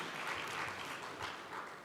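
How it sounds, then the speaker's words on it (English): Soft, steady applause from a crowd, distant and faint, continuing evenly throughout without voices. "So let's give a little round of applause for Doug and Fallon"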